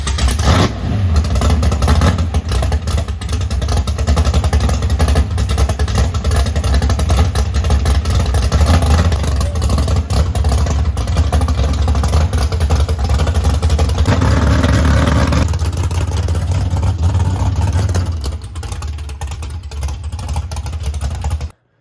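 A Chevrolet S10 drag car roars loudly and continuously as it accelerates up the road, its engine note holding strong for most of the stretch before dropping away near the end.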